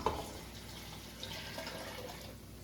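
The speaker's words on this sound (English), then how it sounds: "So I'm going to measure out the amount of water I'm actually putting in here" Water pours and splashes into a container in a steady, fairly quiet stream, with a small clunk at the start.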